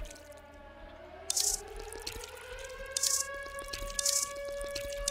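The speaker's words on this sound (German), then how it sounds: "Dann gießen wir einfach nochmal." Watering plants in Drug Dealer Simulator, a quiet game scene with soft splashy water bursts at intervals over rising and falling tonal background drones.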